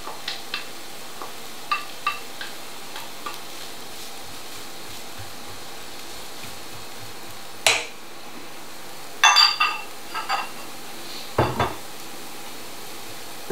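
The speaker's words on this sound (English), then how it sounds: "Let those sizzle for a few minutes just to get them going." Onions and carrot sizzle in a pan for risotto primavera, a soft steady hiss broken by occasional clinks and scrapes of a utensil against the pan.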